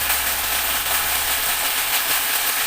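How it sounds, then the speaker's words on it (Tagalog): Steady, loud sizzling of meat frying in a pan for hamonado, a continuous crackling hiss with no voices. "Iprito-prito lang natin siya guys, para masunuod sa karne ng lasa."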